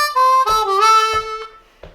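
A D harmonica plays the main theme of a song, a short phrase of bright, reedy sustained notes with bending pitch in a few separated bursts, close and clear with no talk.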